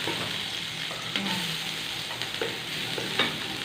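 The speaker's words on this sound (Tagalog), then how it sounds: "Tapos magigisa po ako ngayon." Ingredients for pork kaldereta sizzle in a pan while a utensil stirs and scrapes them, with occasional clinks over a steady frying hiss; fairly quiet and close, no talking.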